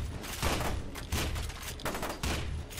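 Shotgun fire in the F.E.A.R. 2 video game comes as a quick series of loud, punchy blasts in close succession, roughly four heavy reports over a dense, noisy battle bed.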